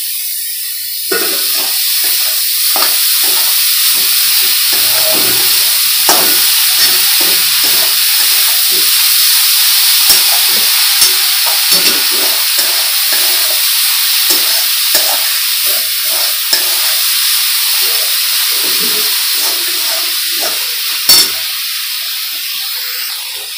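Dried small shrimp sizzle and hiss steadily in a hot pan, with frequent stirring scrapes and crackles running throughout, loud and close, with no talking.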